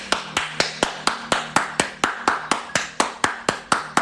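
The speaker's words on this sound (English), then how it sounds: "Let me clap for myself." A single person claps their hands in a brisk, even rhythm of about sixteen sharp, close claps, with no talk.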